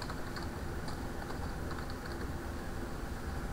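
Keys clacking on a computer keyboard as a Windows command-prompt command is typed, a steady stream of light taps over a constant low background hum, no voices.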